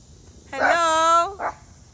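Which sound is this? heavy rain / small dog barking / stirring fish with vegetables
small dog barking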